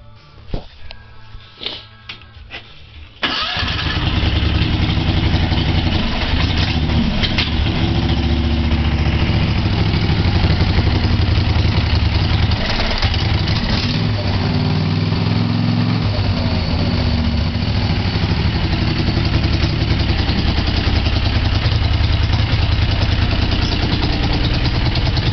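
A vehicle engine cranks over and catches about three seconds in, then settles into a steady, loud, close-up idle with a low rumbling throb that runs uninterrupted to the end.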